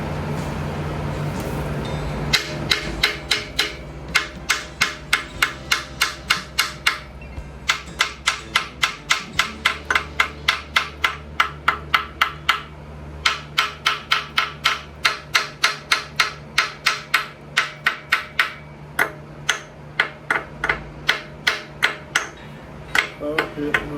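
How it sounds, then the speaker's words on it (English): Steady repeated hammer blows striking metal bolts, sharp ringing impacts in long fast runs with brief pauses between series, loud and close with some talk. "Stop hitting the bolts."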